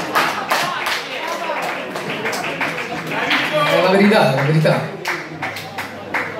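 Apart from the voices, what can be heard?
audience applauding at a live concert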